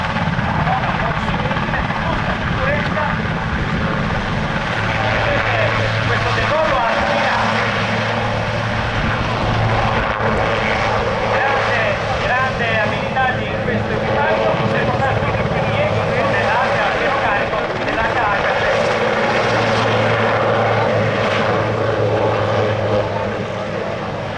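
A helicopter performs a takeoff manoeuvre at the Aeroparma airshow 2013, its engine and rotor roaring loudly and steadily throughout, with a low droning hum under an announcer talking over the public address.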